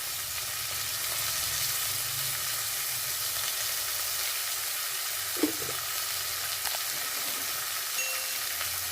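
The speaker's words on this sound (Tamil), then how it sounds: "வெங்காயம் நல்லா வதங்கி வரட்டும், டைம் கொடுக்கலாம்." Steady broadband sizzle of onions sautéing in hot oil for prawn biryani, constant and close, with a faint clink or stir around the middle.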